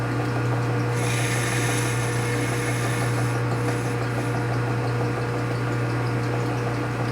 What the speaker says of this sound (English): Cut the chamfer.